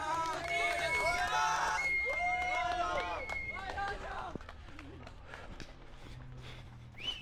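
A crowd lines the course of a night half-marathon, with loud shrill cheering and voices up close over the patter of runners' footsteps, and the cheers fade toward the end.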